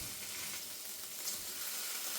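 Burger patties for a homemade cheeseburger fry in a pan on the hob, turned down to about 3: a steady, even sizzling hiss close by that carries on without a break, with no talking.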